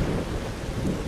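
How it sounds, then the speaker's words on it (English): Heavy rain falls in the top-down game Zombie Driver HD, a dense continuous hiss and rumble like a downpour with a thundery low roar, loud and unbroken throughout without voices. "I like the rain effect."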